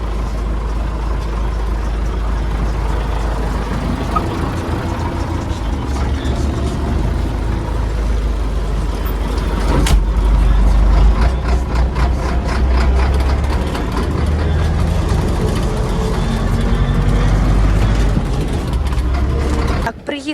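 A tractor engine runs steadily and loud at close range, a continuous heavy low rumble that swells slightly midway as it drives off toward a small field plot, with some speech underneath.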